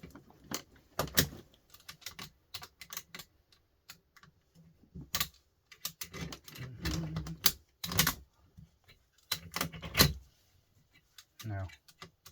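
Box knife slicing plastic insulation off small brass electrical parts clamped in a vise, heard as scattered sharp clicks and scraping bursts with quiet gaps between them.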